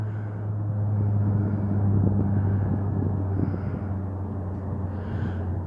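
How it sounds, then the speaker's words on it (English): An airplane flies low overhead, a steady low rumbling drone with some wind buffeting, moderately loud and continuous, with no talk. "Listen to the plane."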